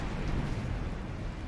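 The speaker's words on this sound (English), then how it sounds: "That was a big explosion." A big explosion in the Company of Heroes 3 war game rolls out as a deep, sustained rumble with broad noisy roar, loud and continuous without any voices.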